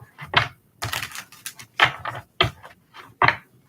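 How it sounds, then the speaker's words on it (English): A deck of tarot cards is shuffled by hand close up, with irregular bursts of riffling and soft slapping separated by brief pauses, and no speech. "I just want to shuffle so that I won't be getting the same cards for everybody"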